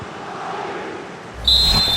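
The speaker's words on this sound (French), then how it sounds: "C'est terminé, le coup de sifflet dans ce match" The referee's final whistle in FC 25 during an Arsenal vs PSG Champions League match, one sustained shrill blast that enters abruptly near the end over crowd ambience.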